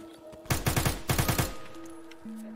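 Two quick bursts of automatic gunfire in Arma 3 zombie co-op mode, each a tight string of about five loud, close shots, followed by a low hum.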